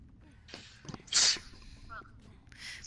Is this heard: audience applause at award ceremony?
no